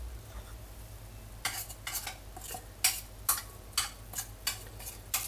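A spoon stirs a Thai chili garlic mixture for a pest spray, scraping against the bottom of a container in about nine steady, evenly spaced strokes after a quiet start, close and fairly soft, with no talking.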